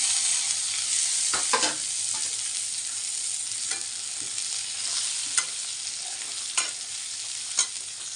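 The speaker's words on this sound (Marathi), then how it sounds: "हे भाजलं की लगेच ह्यामध्ये सुट्टी केलेली भाजी टाकायची" Chopped karada leafy greens are stir-fried in a pan, with a continuous bright sizzle and occasional scraping taps of the spatula, heard close and without talk.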